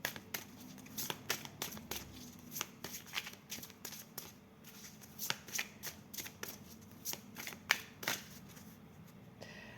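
Oracle cards shuffled by hand, a steady series of soft papery flicks and riffles spread across the whole stretch, close but fairly quiet, with no voices over it.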